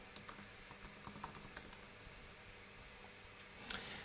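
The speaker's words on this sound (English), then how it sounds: "so I'm going to type my password." Quiet, close keystrokes on a computer keyboard as a password is entered, a steady patter of light clicks with a slightly louder clack near the end, over faint room hum.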